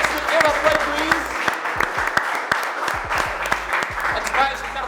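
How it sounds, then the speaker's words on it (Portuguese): Audience at a quiz show applauding a semifinalist, with steady, close clapping throughout and sharp individual claps standing out, while voices talk over the applause. "Um aplauso para Serginho"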